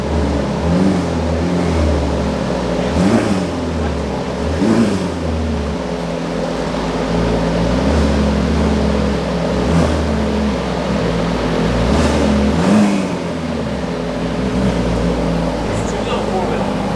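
A tuned Ferrari F8 Tributo with a full exhaust runs on a dyno, its engine droning loud and steady with repeated swells of revving, while voices talk over it.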